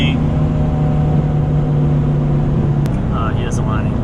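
A car's supercharger whines at full throttle, a loud, continuous engine roar with a steady high-pitched tonal line held for several seconds before it fades, and a voice briefly exclaims near the end.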